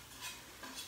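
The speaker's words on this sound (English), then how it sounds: "you are sautéing the green onion and mushroom for 8 minutes altogether" Green onion and mushroom sautéing in a pan, a faint, brief soft sizzle with light stirring scrapes.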